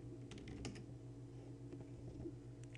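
Quiet keystrokes on a computer keyboard, a brief scattering of light taps and clicks against a faint steady hum, with no voices.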